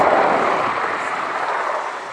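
A Boeing AH-64 Apache attack helicopter flying a display at Cosford airshow gives a broad, distant engine and rotor roar that fades slightly over a couple of seconds.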